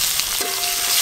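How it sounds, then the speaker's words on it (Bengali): Chopped onion frying in hot oil, a continuous close hiss and sizzle with a faint tonal ring partway through, no talking. "তো এবার পেঁয়াজ কুচি দেব।"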